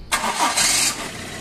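A Toyota Corolla GLI with a hard-starting problem cranks briefly and fires up, a quick starter whir catching into a loud revving burst that settles toward idle, heard alone up close.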